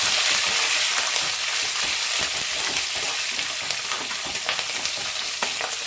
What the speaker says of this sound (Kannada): ಹಸಿಮೆಣಸಿನ್ಕಾಯಿ ಒಂದು ನಾಲ್ಕು ಗೋಡಂಬಿ ಒಂದು ನಾಲ್ಕು ಹಾಕ್ಕೊಂಡಿದ್ದೀನಿ ಸೊ ಇದಿಷ್ಟನ್ನು ನೀಟಾಗಿ ಫ್ರೈ ಮಾಡ್ಕೊಳ್ಳೋಣ